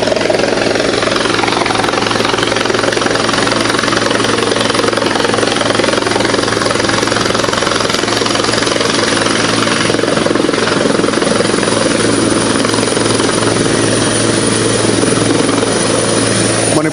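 A helicopter at a hillside helipad during a government visit, a loud, continuous rotor and turbine roar heard up close and unbroken throughout.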